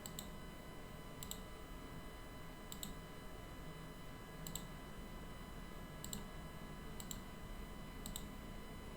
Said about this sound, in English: So I'm just clicking on the highs and the lows.